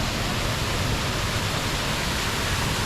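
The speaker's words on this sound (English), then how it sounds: "As you can see, it's still raining." Steady, dense hiss of rain falling at Disneyland Paris, a continuous even wash of sound with no breaks or voices.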